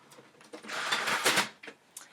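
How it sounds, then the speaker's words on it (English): A home printer prints a page, making a quiet mechanical whir with a short louder surge of feed and carriage noise in the middle, framed by faint clicks. "This is my printer, so I'm just going to hit print here."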